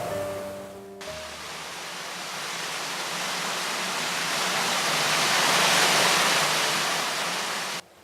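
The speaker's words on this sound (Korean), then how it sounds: "처음에는 물소리가 시끄럽더니" Rushing stream water in a Korean garden, a dense steady broadband roar that swells slightly and holds without pause, with a short tonal sound at the very start.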